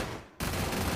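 Gunfire in Free Fire Clash Squad on the Bermuda map, a dense burst of loud, close shots that cuts in abruptly after a brief quieter dip and keeps going without pause.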